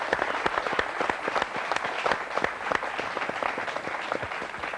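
Warm audience applause fills the room, a dense patter of many hands with distinct individual claps poking through, steady for about five seconds.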